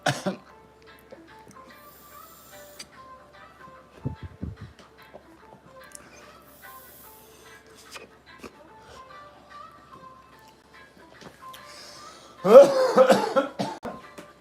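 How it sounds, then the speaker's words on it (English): A burst of harsh, rough coughing near the end, loud and close, after a long stretch of quiet with faint background noise. "I don't usually cough on my Yocan"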